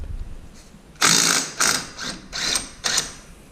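A ratchet with a 1 1/16 socket clicks as it works an ATV axle nut loose: short bursts of rapid pawl clicking, five or so strokes, close and dry with no voices.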